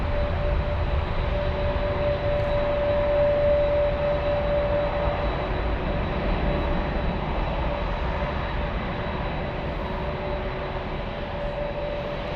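A Lufthansa Airbus A320 jet at Frankfurt airport gives a steady, loud turbine roar that holds constant and close for the whole stretch, with a thin whine riding on top and no voices.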